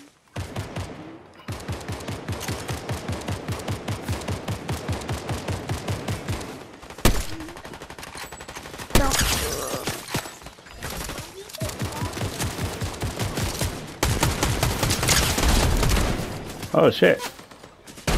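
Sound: gunfire in a video game

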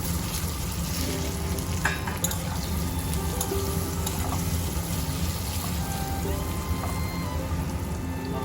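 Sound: spices and cauliflower frying in oil

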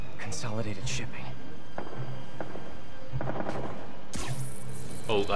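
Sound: gunfire in Marvel's Spider-Man video game

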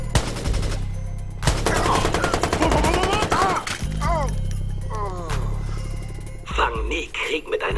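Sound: gunfire from enemies shooting in the video game Watch Dogs

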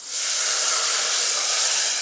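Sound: moong dal added to hot tempering, sizzling

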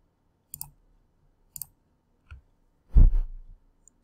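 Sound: mouse click on the update button

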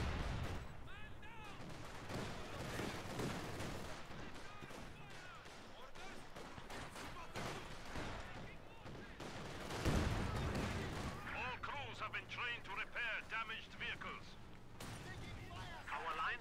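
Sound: gunfire in the video game Company of Heroes 2

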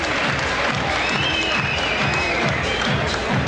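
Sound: crowd applause, standing ovation at kickboxing fight

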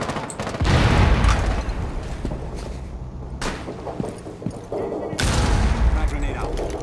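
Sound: grenade exploding in Rainbow Six Siege video game

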